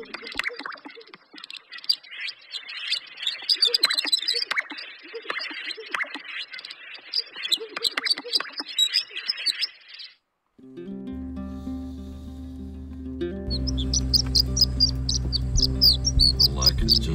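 Outdoor chorus of birds calling and chirping on a lek, with insect-like trills, then a loud low humming drone joins in as high calls continue.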